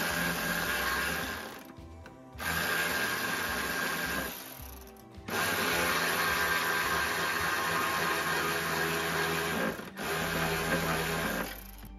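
Electric power tool tightening the alternator belt adjuster bolt on a Daihatsu Esse: loud, steady high-pitched motorized whirring in three long bursts separated by short pauses, with no talking.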